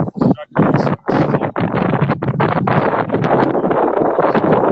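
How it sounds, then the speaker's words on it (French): Strong wind buffets the microphone on a sailboat in loud, continuous roaring gusts with a few brief drops in between. "Il y a beaucoup de vent, on n'entend pas trop bien."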